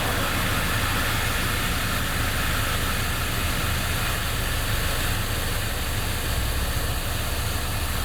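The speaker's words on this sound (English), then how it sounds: "So first thing, let's start the engine." A gasoline direct-injection car engine runs at a steady idle close by, giving an even mechanical hum with broadband noise, with no speech and little change in level throughout.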